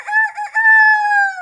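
A person imitates a rooster's crow, a loud drawn-out cock-a-doodle-doo call, close up and alone.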